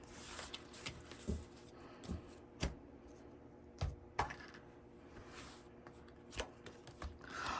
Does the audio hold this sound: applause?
no